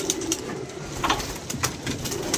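Pigeons coo softly against a low, steady background hum, with a few short, faint bird calls scattered through it. No voices are heard.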